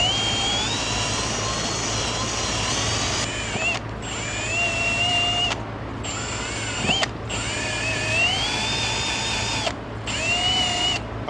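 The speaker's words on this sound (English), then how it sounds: "I've got that caliper bracket brushed off right there" A brush scrubs grime off a brake caliper bracket during a brake pad and rotor job, a steady loud abrasive whirring that runs nearly continuously with a few brief pauses, with no talking.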